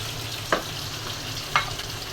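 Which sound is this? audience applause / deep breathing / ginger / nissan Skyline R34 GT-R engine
ginger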